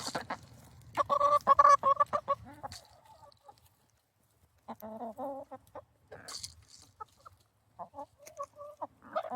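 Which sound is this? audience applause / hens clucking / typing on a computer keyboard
hens clucking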